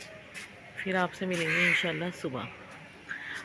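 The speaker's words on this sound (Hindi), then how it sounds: "आज कौवा बोल रहा है कोई आएगा" A crow caws repeatedly at dusk on a rooftop, a series of harsh, nasal calls in short groups, close and loud, while someone speaks over and between them.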